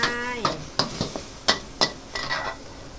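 Seasoned lean pork being stir-fried in a pan, with a soft sizzle under repeated sharp scrapes and clinks of a utensil against the metal in an uneven rhythm, and a voice briefly heard at the start.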